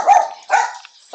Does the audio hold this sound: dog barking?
yes